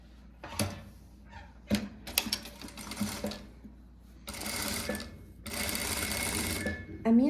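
A sewing machine stitches a seam on a blouse in short bursts of rapid mechanical whirring, separated by pauses with clicks and handling noises.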